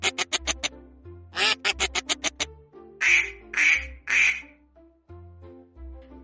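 A duck quacks repeatedly in quick, nasal bursts, some clustered rapidly and others spaced out, loud and near with no other sounds, in an animated story.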